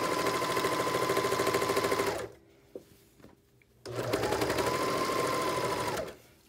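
A serger sews a neckband in two fast, loud whirring bursts, separated by a quiet pause with a few small clicks.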